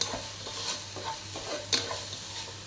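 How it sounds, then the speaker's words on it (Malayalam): Crushed ginger, garlic and green chili stirred in a hot pan for Thalassery-style chicken dum biryani, giving soft scraping strokes over a faint sizzle, with one sharper clink near the end. "ഇനി നേരത്തെ ചതച്ച് വെച്ച ഇഞ്ചി, വെളുത്തുള്ളി, പച്ചമുളക് ഇതിൽ ചേർത്ത് കൊടുക്കാം. മിക്സ് ചെയ്യാം."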